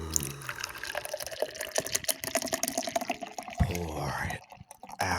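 Liquid poured out of a can glugs and splashes steadily for several seconds, close and fairly loud, with people talking over it during a podcast recording.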